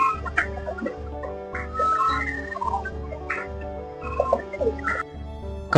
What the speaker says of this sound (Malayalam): ഈ കൂട്ടത്തിൽ തന്നെ പ്രാവുകളോടൊപ്പം മറ്റു ഫാൻസി കോഴികളും ഒരുപോലെ നിന്ന് ഫീഡ് ചെയ്യുന്ന കാഴ്ചയാണ് നമുക്കിവിടെ കാണാവുന്നത്